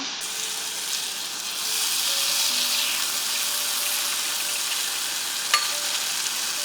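Curd is stirred into a moringa leaf buttermilk curry made without coconut in a pan, a steady soft bubbling sizzle with faint hiss, one brief clink, and no voices.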